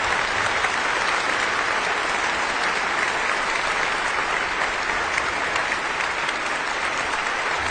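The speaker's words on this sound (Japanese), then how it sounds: "辻井さんの演奏にウィーンの聴衆は惜しみない拍手を送り続けました。" A Vienna concert audience gives sustained, even applause after Nobuyuki Tsujii plays Prokofiev's Piano Concerto in a 2015 live performance, a dense wall of clapping that never lets up, with no voices over it.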